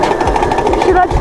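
A 1800-watt electric pitbike motor whirs steadily at close range while being ridden, a continuous buzzing drone with a faint regular pulsing, with a voice over it.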